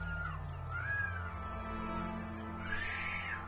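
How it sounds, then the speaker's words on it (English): A young boy screams in the background, rising and falling in long wailing cries heard faintly and at a distance, over a steady hum of video game sound. "All I know is that is my youngest brother screaming."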